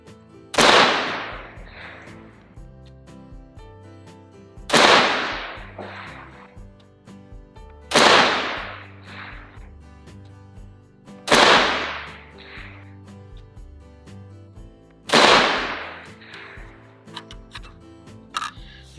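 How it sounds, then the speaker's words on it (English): Five loud, sharp rifle shots from a 300 Blackout rifle with a Brownells BTAC 16-inch barrel, fired at a steady pace about three to four seconds apart outdoors, each with a quick echoing tail. "do some shooting."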